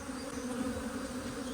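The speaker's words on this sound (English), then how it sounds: "I can still hear a swarm of them behind my head" An angry honey bee swarm from a decade-old colony being removed, humming as a dense, steady drone close to the ear, filling the whole moment without a break.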